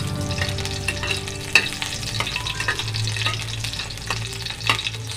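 Onion frying and being stirred in a pan for breakfast, a steady sizzle with soft scraping stirs and a few sharp utensil knocks, close and continuous with no talk.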